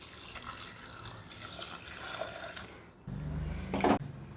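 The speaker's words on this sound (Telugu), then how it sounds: "ఇందులో కొద్దిగా వాటర్ యాడ్ చేస్తున్నాను" Water is poured into a pressure cooker holding pumpkin for halwa, a short, close splashing stream that starts near the end after a stretch of faint background noise.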